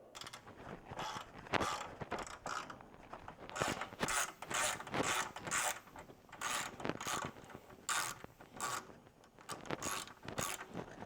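A ratchet loosens the hood mounting bolts on a Jeep JL, giving bursts of clicking and mechanical creaking in irregular runs, close up with no talking.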